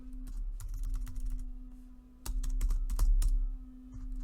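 A command is typed on a computer keyboard, with two runs of quick close key clicks over a steady low electrical hum.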